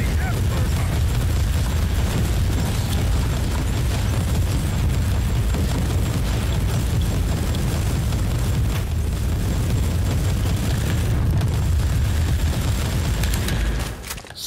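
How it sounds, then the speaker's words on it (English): A grenade detonating in the action game Inquisitor Prophecy, within a dense, continuous wash of loud booming blasts and gunfire that rumbles on for many seconds before cutting off. "Why did I throw a grenade?"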